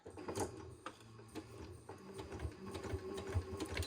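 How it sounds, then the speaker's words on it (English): A sewing machine runs at a steady whir, stitching the 3/8 inch seam of a pieced hexagon Christmas stocking, quiet and close with small rhythmic mechanical ticks and no talking. "I'm ready to sew these together with a 3/8 inch seam allowance"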